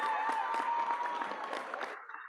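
Short, fairly faint burst of applause from a live audience, a dense patter of clapping that fades out after about two seconds.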